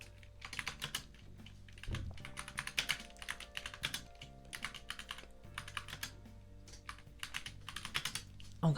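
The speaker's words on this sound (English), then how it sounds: "You're gonna hear some mechanical keyboarding somewhere." Fast, uneven clacking from a mechanical keyboard fills the clip as someone types close by in quick bursts with brief pauses. The keystrokes sound crisp and near, with no speech over them.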